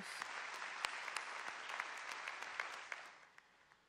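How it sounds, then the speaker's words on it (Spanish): A church congregation applauds its musicians after a worship song, a dense patter of claps with a few sharper hits standing out, fading away toward the end. "un aplauso para nuestros músicos"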